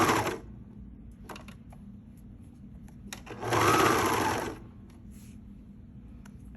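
A sewing machine stitches clear elastic along the edge of a cami tank top in short bursts of close, rapid whirring, with one longer run in the middle and quiet handling between bursts.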